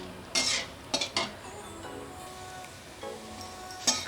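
Cauliflower florets and potato pieces sauté in a pan for a vegetarian curry. A spoon knocks and clinks against the pan a few times in quick bursts over a faint, continuous sizzle.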